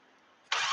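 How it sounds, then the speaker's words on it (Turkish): A car engine cranks and catches in an instant, a quiet stretch giving way to a sudden loud, steady roar that holds to the end. "Evet arkadaşlar araba çalıştı"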